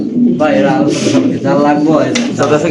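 Fancy pigeons at a pigeon farm cooing in soft, repeated throaty calls, close and fairly loud, mixed with people talking and other background chatter.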